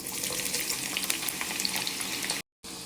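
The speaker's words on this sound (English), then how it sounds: "Onions in the hot oil." Sliced onions hit hot groundnut oil in a dry pot for jollof rice, giving a steady, bright crackling sizzle up close that runs without a break before a sudden brief cutout.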